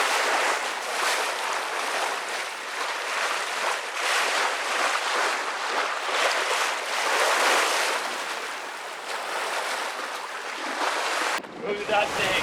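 Ocean surf and rushing water around a sailing boat under way to Fiji, a continuous broad wash with wind buffeting the microphone, surging and easing for several seconds.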